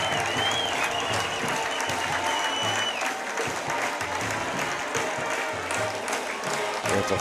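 A high school football crowd at Spring Hill roars and applauds as the Broncos take the field on a full night, a dense, loud, continuous wash of cheering.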